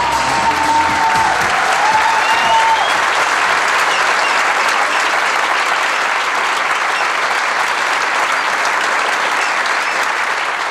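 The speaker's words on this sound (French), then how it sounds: "Les gens y applaudissent comme dans un club de striptease" Crowd at a Raëlian convention applauding, loud sustained clapping from a large audience filling the room, steady throughout with a brief tonal whistle or sung note early on.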